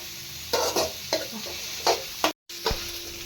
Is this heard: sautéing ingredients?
yes